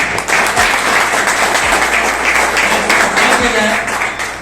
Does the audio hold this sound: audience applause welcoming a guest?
yes